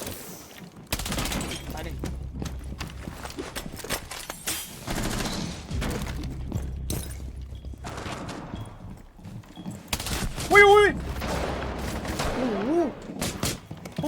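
Gunfire in the video game Rainbow Six Siege: several bursts of rapid shots, some close and loud, separated by short gaps, with excited talk over the shooting.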